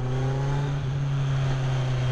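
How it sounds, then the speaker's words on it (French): Kawasaki Z900 four-cylinder motorcycle engine (2020, A2 35 kW restricted version) holding a steady, loud, smooth hum with strong harmonic tone, close by and alone, with no voices. "Ah, ce petit son, j'aime bien le 4 cylindres"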